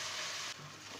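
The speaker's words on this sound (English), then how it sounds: "So I've been frying it for another 3 to 4 minutes." Aubergine and potato curry with chopped green chillies frying in separating oil in a pan, giving a steady close sizzling hiss that softens slightly halfway through.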